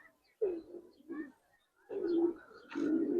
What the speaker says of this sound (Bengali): এই দেখেন ভাই কবুতর